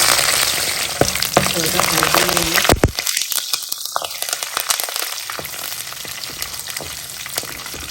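Green chillies, a bay leaf and curry leaves frying in hot oil give a loud, dense crackling sizzle that briefly drops out, then returns as a steady fry.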